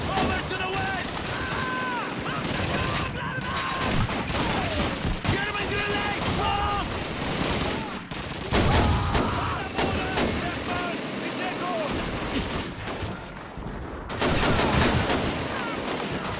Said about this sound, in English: We got another MG42 up here.